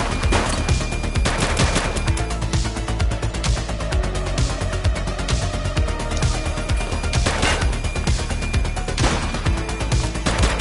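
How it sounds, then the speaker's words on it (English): Sustained shootout in the police game The Precinct: overlapping volleys of loud, close gunshots and sharp cracks pile up without pause, heavy and chaotic throughout. "She's shooting!"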